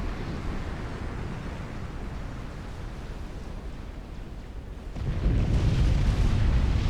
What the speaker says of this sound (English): UEF really do have the best nuke explosions.